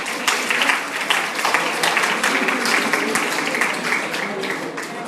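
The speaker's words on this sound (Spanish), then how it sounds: "Ahora sí que un aplauso para ustedes." An auditorium audience at a lecture applauds steadily and fairly loudly, many hands clapping together at an even level from start to finish.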